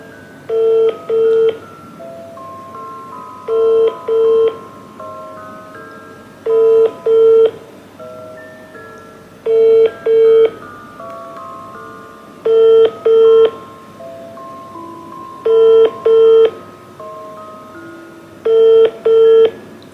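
A telephone call goes out on a phone, with a repeating calling tone in regular paired bursts, about seven double pulses evenly spaced over twenty seconds, clear and steady with no voices.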